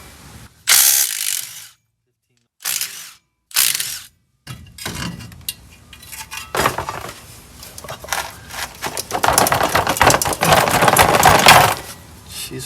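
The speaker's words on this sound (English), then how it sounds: "Let's get these bolts off" Ratchet wrench clicks as bolts come off VW Beetle brake parts during a brake restoration: short bursts of clicking separated by pauses, then longer, denser ratcheting and metallic clanks close to the microphone.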